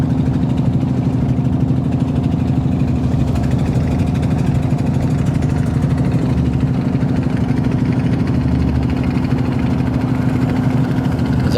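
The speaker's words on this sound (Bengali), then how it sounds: "যাত্রীবাহী একটি ট্রলার মানুষজন নিয়ে আসছে এদিকে" A passenger trawler boat's engine runs with a loud, steady, low, throbbing drone that stays continuous throughout, with no talk.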